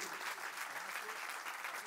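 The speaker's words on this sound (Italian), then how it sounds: "Prendetevi l'applauso." Applause from an audience after singers perform at an evening music event, a short, even patter of clapping at moderate level.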